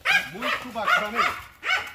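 A pitbull barks in short, loud, close bursts, four or five gruff woofs in an uneven rhythm, while someone talks over the barking.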